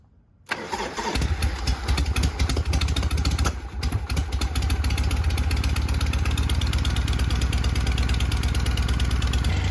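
A Shovelhead motorcycle engine catches after a brief crank and settles into a loud, steady choked idle with an even, rapid throb and no voices.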